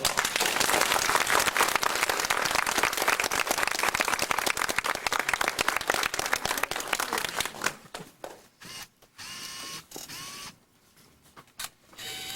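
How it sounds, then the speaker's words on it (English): An audience at a 1998 graduation and pinning ceremony gives a long burst of dense clapping that thins out into scattered claps and quiet room noise toward the end. "Now, I'd like to give a big round of applause."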